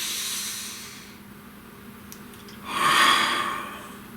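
One person draws a deep breath, a soft hiss at first that swells into a louder, airy inhale near the end, close to the mic with no talking.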